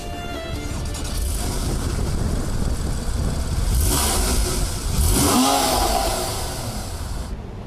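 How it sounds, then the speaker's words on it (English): A Porsche 911 Cabriolet's flat engine revs hard and close, a dense roaring rush that swells twice toward the end before easing off, with no voices. "And the flat engine purrs like a dream"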